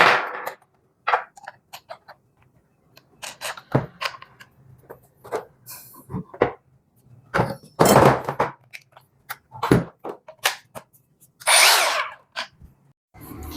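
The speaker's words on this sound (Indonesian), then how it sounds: "lanjut saja kita ke proses pengetesan bor brushless dari Total." Cordless brushless Total drill whirring in repeated short bursts, some longer runs, close and loud with brief pauses between spins, likely boring into 4.5 mm grade A steel angle iron.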